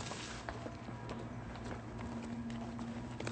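Steady hoofbeats of a horse moving at a quick pace, clip-clopping over constant rumbling background noise.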